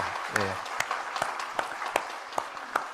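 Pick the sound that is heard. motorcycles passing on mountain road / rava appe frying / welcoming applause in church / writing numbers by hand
welcoming applause in church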